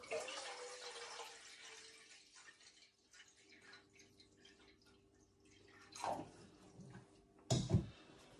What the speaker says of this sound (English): So I've just added some fresh water